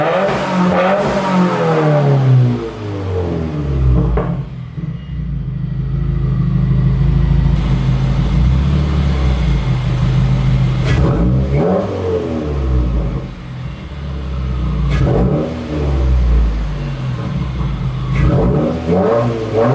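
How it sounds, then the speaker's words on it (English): A 2015-or-newer Subaru WRX with a Nameless axle-back exhaust revs repeatedly, its loud engine rising and falling through several blips with raspy exhaust tone and no talking. "I'm just gonna do a little exhaust comparison right now. And yeah, just listen to it."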